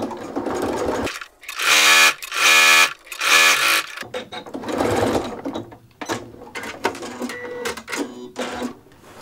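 A sewing machine bastes fabric for a drawstring tote backpack, running in several loud, close bursts of rapid stitching separated by short pauses, then in shorter, uneven spurts.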